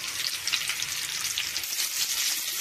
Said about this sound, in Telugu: కాకరకాయ ముక్కలు వేగుతున్నాయి కదండి, ఎక్కువ ఆయిల్ వేసి వేపినా కూడా కారం ఆయిల్గా ఉంటుంది, అందుకని తక్కువ ఆయిల్తోనే వేపుతున్నాను నేను.